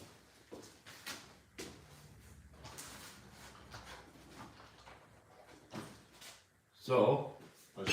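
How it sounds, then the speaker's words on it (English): A big door is pushed shut, ending in a loud, close thud after several seconds of talk and handling noises. "So, let's close this big door again."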